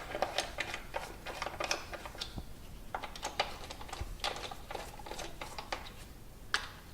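A socket turning bolts onto a Dodge Neon ignition coil, giving a fast, close series of light metallic clicks and ratcheting ticks, fairly quiet, with no talking.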